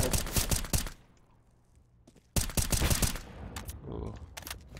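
Rapid video-game gunfire in a competitive shooter match, with sharp close bursts of automatic shots, a brief lull with faint distant shots, then another heavy volley trailing off.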